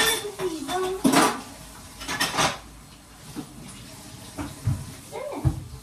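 Dishes being washed at a home kitchen sink, with pots and cutlery clattering in sharp bursts over running water, while people talk nearby.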